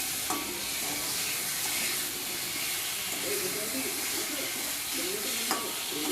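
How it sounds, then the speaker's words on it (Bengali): Stinging catfish fries lightly in a pan with spices and vegetables, a continuous close hiss and sizzle with a few utensil knocks. "এবার মাছটাকে হালকা আমি একটু ফ্রাই করে নেব মশলা আর সবজির সাথে"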